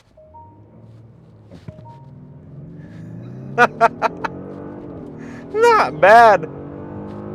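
A 2025 Genesis G80 3.5T Sport Prestige sedan launches hard under launch control, its engine rising in a steady climbing drone with sharp gear-shift jumps partway through, heard from inside the cabin as someone speaks briefly.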